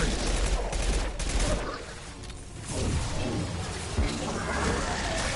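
Gunfire in the video game Mass Effect, a rapid fusillade of shots with mechanical clatter and whooshes, loud at first, dipping briefly in the middle, then resuming.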